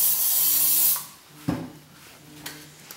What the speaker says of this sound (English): You can use a little bit of hairspray.